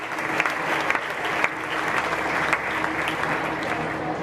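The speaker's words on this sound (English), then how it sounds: "So please give the Gilly family a round of applause." An audience at a county supreme showmanship livestock show applauds a family, a steady dense wash of clapping lasting throughout at moderate distance, with no voices standing out.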